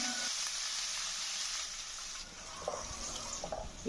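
Bay leaf, dried red chilli, cloves, black pepper, cinnamon, cumin and chopped onion frying in hot oil for a Bengali fish-head dal, a steady close hiss and crackle with light clinks toward the end, no talk.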